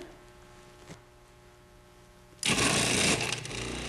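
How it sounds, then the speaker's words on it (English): Cuisinart Classic food processor with the slicing disc slicing vegetables such as lemon, cucumber, peppers and potatoes: a quiet hum first, then a sudden loud, dense whirring roar of the motor and blade that continues steadily to the end. "Now let's take a look at what the slicing disc can do. It makes beautiful slices of lemon,"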